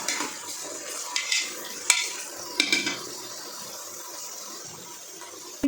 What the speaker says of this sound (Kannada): ಇದು ಈಗ ಫ್ರೈ ಮಾಡಬೇಕು